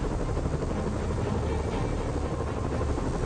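Helicopters flying over a city in a Spider-Man episode, a loud continuous rotor drone with dense low thrumming and broad roar, steady throughout.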